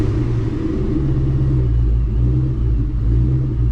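A 2024 Ford Mustang GT with a Whipple supercharger idles close by in a deep, steady rumble that wavers a little and holds a slightly uneven rhythm.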